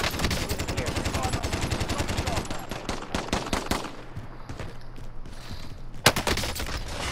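Rapid automatic gunfire in Call of Duty: Modern Warfare, a dense burst of shots that thins into sparse single shots, then another loud close burst, with no talk over it.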